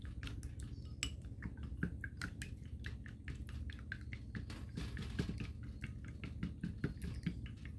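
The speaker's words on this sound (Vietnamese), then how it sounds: "mình đánh cho trứng nó tan ra" Eggs being beaten in a bowl with a utensil for Vietnamese tomato egg soup, a rapid, steady run of light clinks and taps against the bowl, close and continuous.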